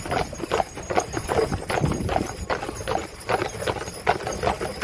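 Hooves of a four-horse hitch clip-clop on ground at a farm park, a busy, overlapping walking rhythm from several horses, fairly close and moderately loud with no talk.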